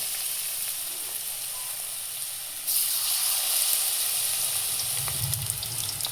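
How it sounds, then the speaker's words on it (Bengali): Banana flower fritters in gram flour batter fry in hot oil with a steady, fairly quiet hiss that grows louder and brighter partway through as another piece goes in. "তেল গরম হয়ে গেছে, এখন একটা একটা করে দিলাম।"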